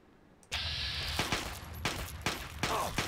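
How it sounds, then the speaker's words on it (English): Gunfire in Fallout 3, a loud volley starting abruptly and followed by a steady series of sharp shots roughly every half second over a continuous background. "Now let's shoot him in the face"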